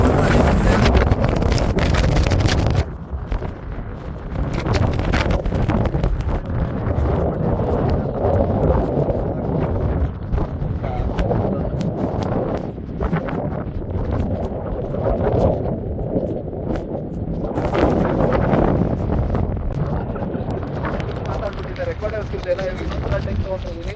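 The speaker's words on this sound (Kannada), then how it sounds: "ಫುಲ್ ಮಳೆ ಹೊಡಿತಾ ಇದೆ, ಸಿಕ್ಕಾಪಟ್ಟೆ ಹೊಡಿತಾ ಇದೆ." Loud, roaring wind buffets the microphone with a steady rush of rain in Coorg, while a person talks under the noise.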